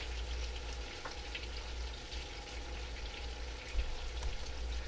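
Finely diced onion cooking in a pot, a soft, even low sizzle with faint crackles throughout, quiet and without talk.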